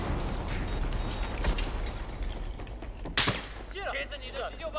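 Battlefield 4 multiplayer Rush match with gunfire: scattered shots and one sharp loud burst mid-clip over constant battlefield rumble, with mechanical creaks and distant noise.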